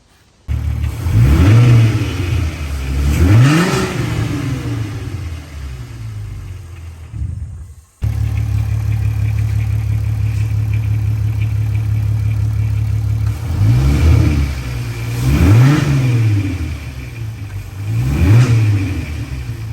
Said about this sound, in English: we're about to start it up and see what it sounds like